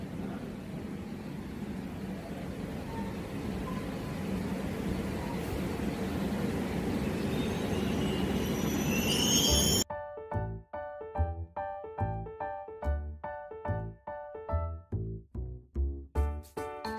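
A Kolkata metro train runs between Majerhat and Thakurpukur with a constant rumbling, hissing ride noise for about ten seconds, then abruptly gives way to rhythmic music.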